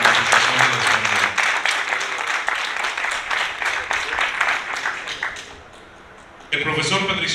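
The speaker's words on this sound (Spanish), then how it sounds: "Démosle un fuerte aplauso de bienvenida a nuestro vicepresidente de la reunificación de la hispanidad." Warm audience applause greeting a speaker at a lecture on the Spanish Empire's economy, brisk clapping that fades out, then a voice begins speaking.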